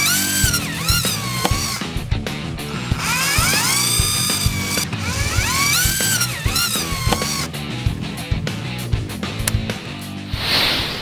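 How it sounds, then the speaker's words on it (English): Power drill boring holes through an E-Z-GO golf cart motor access panel with 7/16 and 9/32 bits, a loud close whine rising and falling in several repeated bursts, with grinding, ratcheting rattles and no talking. "We want to drill out these lower two with a 7/16 drill bit and these upper two with a 9/32."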